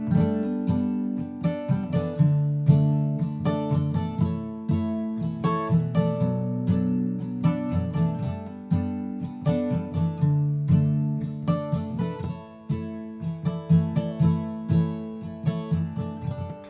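An acoustic guitar strummed with thumb downstrokes and pointer-finger upstrokes, giving soft, rhythmic chord strums that repeat steadily up close, with no talk.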